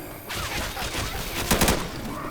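Loud, dense gunfire from the video game Left 4 Dead 2 rattles continuously with overlapping shots, peaking in a rapid burst near the end.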